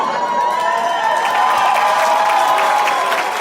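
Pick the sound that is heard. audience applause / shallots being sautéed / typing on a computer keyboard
audience applause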